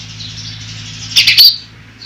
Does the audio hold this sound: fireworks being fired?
no